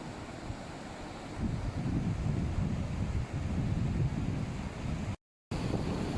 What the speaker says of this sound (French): C'est une chute vraiment impressionnante parce qu'elle fait 381 mètres je pense et sa chute libre est de 254 mètres.